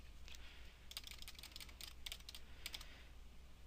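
Typing on a computer keyboard close up, quick clusters of light clicking keystrokes in uneven bursts over a faint steady hum, with no voices.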